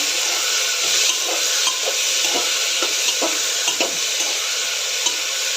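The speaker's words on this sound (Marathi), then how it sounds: "ओले मटार आता हे सर्व चांगलं परतून घेऊया" Green peas, onion, tomato, carrot and beans sautéed in a pan for mixed vegetable khichdi, a bright steady sizzle with regular spatula taps and scrapes every half second or so, close up and without speech.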